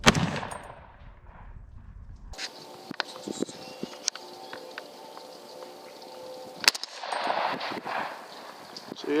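A 300 Blackout rifle fires a subsonic round without a suppressor, giving one sharp blast with a decaying rumble, followed by scattered small clicks and knocks of handling.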